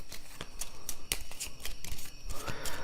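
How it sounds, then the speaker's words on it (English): A hand of cards from the board game Gods of Metal: The Chosen being shuffled, giving rapid crisp riffling clicks and flutters close by, irregular and quiet. "so they have to shuffle these"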